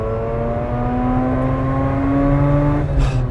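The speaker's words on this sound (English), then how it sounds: "let's finish this off with a couple downshifts" Engine of a 2011 Mazda RX-8 during a downshift: a loud, smooth steady hum that holds its pitch and then drops suddenly near the end as the gear changes, heard up close with no talking.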